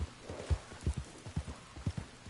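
Rhythmic clip-clop of horse hooves in the video game Red Dead Online, a steady gallop-like beat of soft, muffled thuds heard alone at moderate distance.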